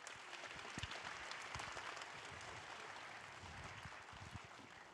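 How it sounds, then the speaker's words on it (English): Hackathon opening-ceremony crowd applauding continuously, a steady wash of claps filling the room at moderate level with no talk over it. "Can we get another massive round of applause for MLH?"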